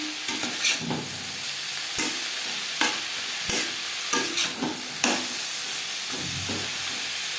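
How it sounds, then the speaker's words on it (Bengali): Sliced snake gourd fried in a pan with salt is stirred, giving a continuous close hiss of sizzling oil broken by repeated scraping clacks of the spoon against the pan, with no voices. "স্বাদ মতো লবণ চিংড়ার সাথে লবণ বেশ ভালো করে মিক্স করে দেবো"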